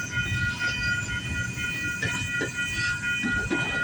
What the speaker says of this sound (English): Oh, this train's going pretty slow.